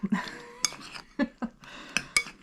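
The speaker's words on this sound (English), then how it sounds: "Just gonna stir this, get a little mixed together." Spoon clinking and scraping against a bowl of mixed eggplant and diced tomatoes, a few close, sharp knocks spaced irregularly with softer rubbing between them.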